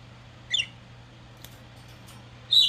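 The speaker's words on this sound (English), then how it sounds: "She just made a little chirp." A small pet bird lets out two brief high chirps about two seconds apart, faint and close against a quiet room with a low steady hum beneath.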